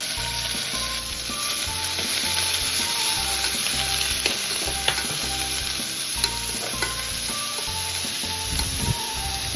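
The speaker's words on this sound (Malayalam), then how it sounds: "എന്നിട്ട് അരിഞ്ഞു വെച്ച ഉള്ളി ഇട്ട് കൊടുക്കാം. എന്നിട്ട് ഉള്ളി നന്നായിട്ട് വഴറ്റിയെടുക്കണം." Chopped onions sautéing in oil with fenugreek and mustard seeds for a chicken curry, a steady loud sizzle with repeated scraping stirs of a spoon against the pan throughout.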